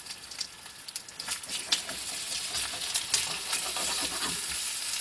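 Breakfast sizzles on a heated griddle at an off-grid homestead, with a steady close crackle of frying food and scattered pops and spatters that build slightly louder throughout, with no talking.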